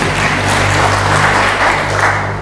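A church congregation at a Sunday morning service claps and cheers continuously, a loud, dense roar of applause filling the room close by, with amplified hum underneath and a short lull just before the end.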